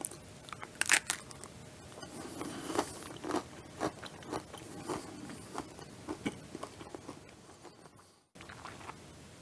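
Crunchy bites into homemade Nutella pretzel bites, close and sharp, followed by irregular chewing crunches that fade over several seconds, quiet overall.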